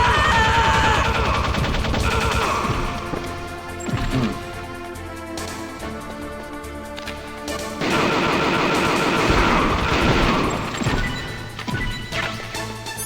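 Loud, dense video game gunfire with crashing, smashing impacts, continuous over the whole stretch and with no talk.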